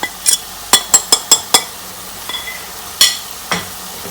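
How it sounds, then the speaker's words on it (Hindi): Egg chickpea masala with salt, amchur and dried fenugreek fries in a pan, with a string of sharp spoon clacks and scrapes against the metal over a soft, low sizzle. No one speaks. "ये हम लोग अच्छे से 5-4 मिनट के लिए भूनेंगे।"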